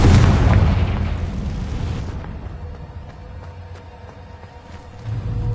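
A Confringo spell bursts in the video game Hogwarts Legacy as a loud, deep boom that rumbles and fades over about two seconds, followed by quieter game ambience and a second low surge near the end.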